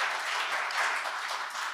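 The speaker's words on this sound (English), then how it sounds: "round of applause" An audience at a robotics debate gives a round of steady, dense applause from many hands, with no speech over it.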